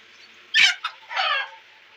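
A rooster in a village yard gives a short loud cluck, then a quick chirp and a longer, softer clucking call, all fairly near with quiet background and no voices.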